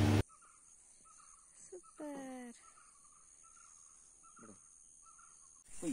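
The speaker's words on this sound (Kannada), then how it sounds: "ಪಕ್ಷಿಗಳ ಕಲರವ" Crows cawing in a village garden among vegetable vines, a few loud harsh caws standing out over a faint bed of smaller bird calls, some near and some farther off.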